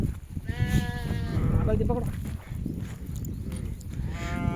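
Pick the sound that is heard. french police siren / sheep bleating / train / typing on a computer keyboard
sheep bleating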